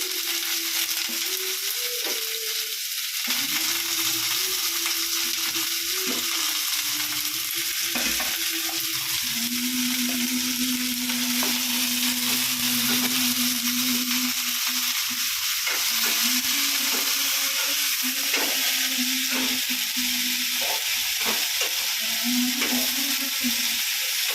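Mustard seeds, dal, chopped garlic, onion, curry leaves and papaya flowers fry in hot oil for a papaya flower poriyal. A loud, continuous sizzle fills the whole stretch, with occasional stirring scrapes and no talking.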